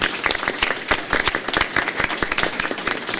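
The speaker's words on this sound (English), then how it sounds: "Maybe we could just hear a round of applause in absentia for them." Audience applause at a college event, made of brisk, distinct individual claps in a lively, fairly close rhythm for about three seconds.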